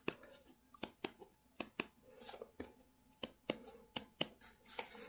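Scissors snip through plastic canvas along a marked line, a series of sharp, close cuts with irregular spacing and soft handling noise between them.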